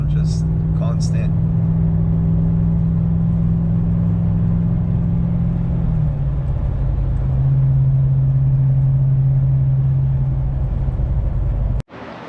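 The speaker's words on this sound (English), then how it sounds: "you can kind of hear that drone in the background, just constant" Steady low exhaust drone from a Hemi 6.4 truck with an MBRP 4-inch cat-back exhaust while driving, constant and loud, shifting pitch slightly midway, with road noise around it.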